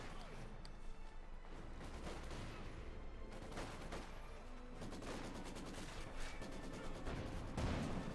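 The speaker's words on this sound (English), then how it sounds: "that sounds like some explosions going off" Explosions and rapid gunfire from a Company of Heroes 2 battle, dense crackling volleys and booms running continuously at moderate level, with a commentator talking over them.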